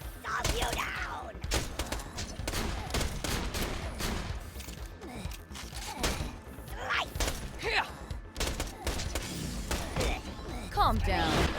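Gunfire in Borderlands 2 during a side mission, dense rapid volleys of shots with mechanical clanks and thuds running throughout, loud and continuous with people talking over it.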